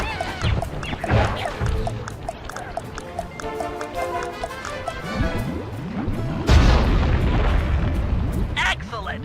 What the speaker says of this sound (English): Place the dynamite when you get near the anchor, or kaboom!